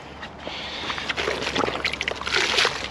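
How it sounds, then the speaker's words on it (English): A car being gently hand washed with water, sloshing and splashing steadily and fairly close, with wet wiping and dribbling that builds slightly toward the end. "just a nice gentle hand wash"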